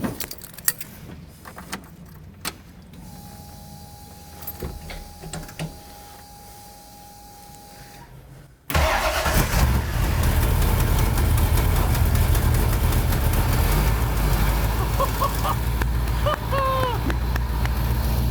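A classic car engine cranks and starts at about nine seconds after a quiet stretch with faint jingling, then idles loudly and steadily for the remainder, right after a power steering pump replacement.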